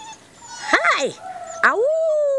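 Puppy whimpering in two rising-then-falling whines ending in a high, sustained yip-like cry, close and loud, with a person's voice calling nearby.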